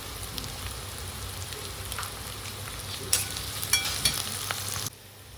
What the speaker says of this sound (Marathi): कांदा आणि मिरची आपली पूर्णपणे भाजून झालेली